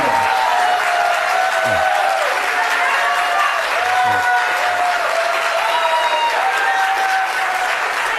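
Sustained crowd applause at an award ceremony for honorary goodwill ambassadors, dense and even throughout with faint cheering and a background melody, no talking.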